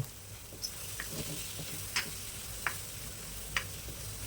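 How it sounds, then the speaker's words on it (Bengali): Soya chunks stir-fry with spices in a pan for aloo soyabean, a soft steady sizzle broken by a few sharp clicks and taps of a spatula against the pan. "সয়াবিনটা ভালো করে মশলার সঙ্গে মিশিয়ে নেব"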